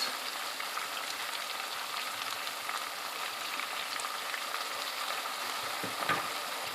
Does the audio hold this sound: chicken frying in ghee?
yes